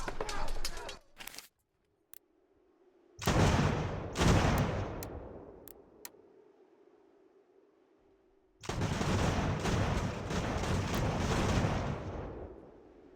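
Musket volleys from massed infantry lines in a Revolutionary War battle in Virginia in the strategy game Ultimate General: American Revolution, heard as loud crackling bursts of fire with gaps between them, ending in a long sustained rolling volley.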